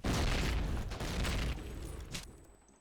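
A grenade explodes in Call of Duty: United Offensive, a loud close boom that rumbles and slowly fades over a couple of seconds.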